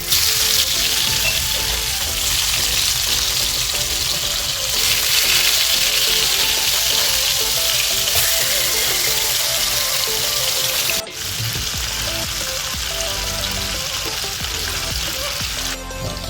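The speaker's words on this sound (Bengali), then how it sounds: "তেল গরম হয়ে গেছে, এখন মাছগুলো দিয়ে দিচ্ছি।" Pieces of coral fish dropped into hot oil in a pan, producing a loud, continuous close-up sizzle and crackle with a brief break near the end, no voices.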